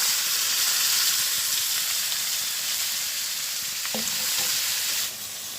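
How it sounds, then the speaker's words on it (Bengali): Meat dropped into a pan of sautéed cumin and coriander paste sizzles in a loud, steady hiss that eases slightly near the end, with a brief clink of utensils partway through. "মশলা কষানো হয়ে গেছে, আমি এখন মাংসটা দিয়ে দেবো"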